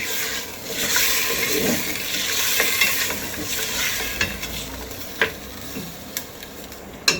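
Steady sizzling in a hot pot as garlic paste is mixed in for an aloo mutton curry, with occasional scraping and clinks of a spoon stirring, close up, with no talking.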